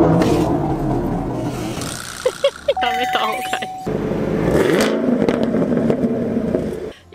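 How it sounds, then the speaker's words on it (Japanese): A Chevrolet Camaro engine rises in a brief rev and then hums steadily, while people talk close by. "ちょっとアクセル踏んでみればいいんじゃない？"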